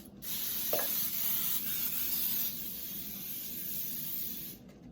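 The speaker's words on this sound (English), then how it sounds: "So let's spray our pan really good." A steady hiss of cooking spray is aimed at a baking pan for several seconds, stronger at first, then continuing a bit softer before it stops.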